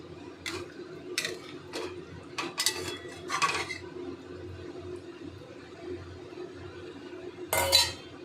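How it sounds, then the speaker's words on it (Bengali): A spoon clinks and scrapes against a pot while stirring chicken ghugni with peas: a series of irregular light metallic taps, then a louder clatter near the end, with no voices. "এবার ভালো করে হালকা হালকা করে নাড়াচাড়া দিতে থাকবো যতক্ষণ না মটরগুলোর গায়ে মশলাটা ভালো করে লেগে যাচ্ছে"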